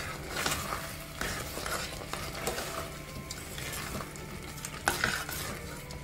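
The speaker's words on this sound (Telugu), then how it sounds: "ఇప్పుడు స్టవ్ ఆఫ్ చేసేసుకుని మొత్తం ఒకసారి కలుపుకుందాం." A spoon stirs sweet jaggery chakkara pongali with ghee and cardamom powder in a pot just after the stove is switched off, giving soft repeated scrapes and gentle clinks against the metal, with a faint sizzle underneath and no talking.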